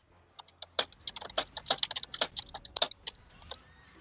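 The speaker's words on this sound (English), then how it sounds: "keyboard sounds like a typewriter" Loud, clacky computer keyboard that sounds like a typewriter, typed in quick irregular bursts of sharp close clicks with short pauses, during a Bard coaching session in a League of Legends game.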